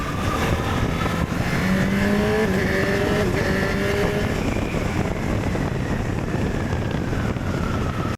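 A Honda Rebel 1100 motorcycle being ridden, heard as a steady, loud engine drone with shifting pitch and rushing wind noise throughout.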